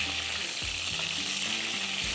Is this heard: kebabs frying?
yes